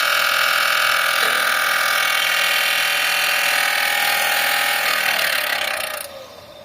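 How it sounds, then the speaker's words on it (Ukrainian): Power tool motor spun up to speed with a part rubbing inside, a loud steady high whine with a scraping edge that winds down near the end. "Коли включаєш на оберти, починає затирати."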